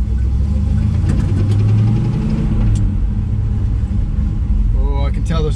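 A Z28 car fitted with a hydroboost brake conversion drives slowly around a neighborhood, its engine rumbling steadily and close throughout, with a brief higher whine near the end.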